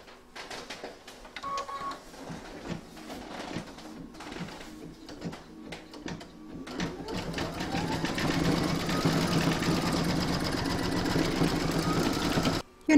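An embroidery machine quilts the vamp of an in-the-hoop vintage witch's boot, starting with sparse, faint stitching bursts, then settling into a steady, louder rapid mechanical stitching rhythm that stops abruptly at the end.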